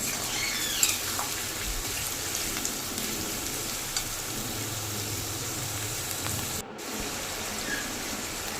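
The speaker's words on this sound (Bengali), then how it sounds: "আলু আর পেঁয়াজ একসাথে একটু লালচে করে ভেজে নেবো" Potatoes and onions fry together in a pan with a soft, continuous sizzle, low and even throughout, with one short dip partway through.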